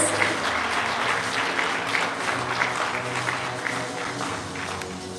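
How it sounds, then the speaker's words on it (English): Sustained, dense applause fills a police promotion ceremony hall, a steady wash of many hands clapping at moderate loudness that slowly eases off without any voices over it. "let's give another round of applause to Sergeant Jeremiah J."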